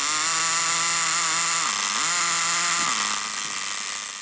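A Kyosho Pathfinder nitro RC car engine running on 10% fuel, slightly out of tune, gives a loud, buzzy, high-pitched whine that dips and rises in pitch several times over about four seconds, with no talking.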